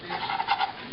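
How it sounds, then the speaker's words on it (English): A whisk swishes through milk being poured into melted butter in a pan, a short, soft, close brushing and sloshing with a brighter stroke at the very end. "I'm going to go ahead and whisk in my 2 cups of milk"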